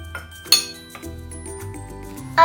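A spoon stirs corn flour and milk in a bowl, with a few sharp metallic clinks and taps against the bowl's side. The clinks are spaced irregularly over quiet background noise.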